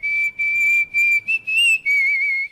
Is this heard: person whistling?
yes